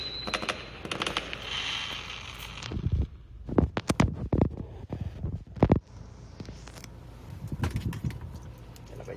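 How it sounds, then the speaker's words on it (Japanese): Fireworks at an outdoor event in Japan: a run of sharp, loud bangs and crackles in an irregular burst, some close together, over a steady crowd-and-ambient hum. "来たこれ、来たこれ、花火。"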